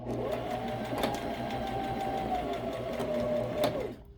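A sewing machine runs steadily while back stitching a wool diaper cover, a continuous whirring hum with faint periodic clicks, close and fairly quiet, stopping abruptly at the end.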